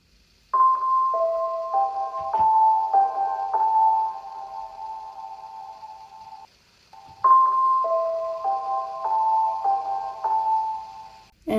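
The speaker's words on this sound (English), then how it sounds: "The second piano solo like this." Soft piano solo in an electronic music track: two short phrases of clean repeated notes in a gentle stepping pattern, separated by a brief pause, alone and fairly quiet.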